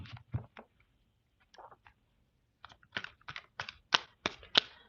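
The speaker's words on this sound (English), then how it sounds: "let's continue with this deck and give it a shuffle" Short bursts of crisp riffling and flicking, starting with a few scattered flutters, then a quick run of sharp papery snaps as cards are shuffled close by.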